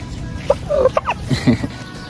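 Several turkeys gobble in bursty, warbling calls close by on a free-range integrated mulberry farm, with rustling farmyard background noise between the calls.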